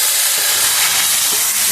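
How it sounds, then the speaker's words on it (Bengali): Vegetable stalks frying in hot oil with onion and garlic, giving a loud, steady, continuous hiss that fills the whole moment with no breaks. "ডাটাটাকে ভাজিয়ে দিলাম"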